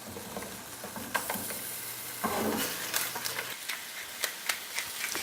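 Zucchini cooks in a hot pan, with a soft steady sizzle under scattered clinks and scrapes of stirring, close but fairly quiet, a brief louder burst of frying partway through.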